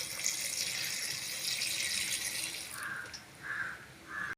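Water streams into a cooking pot while making a Tamil small-leaf spinach and lentil dal, a steady broad pouring wash lasting a few seconds and then thinning into short splashy spurts at the end.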